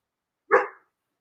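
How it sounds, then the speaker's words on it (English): A single short dog bark rings out close and clear, lasting well under a second, with silence before and after. "And the dogs are going to bark"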